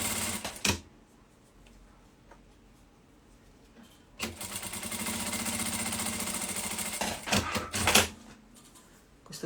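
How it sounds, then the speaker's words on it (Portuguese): A sewing machine runs a polyamide-thread topstitch seam along folded fabric for a handbag, a steady whirring run of about four seconds after short bursts, ending with a few quick stops and starts. "vou fazer uma costura de pesponto"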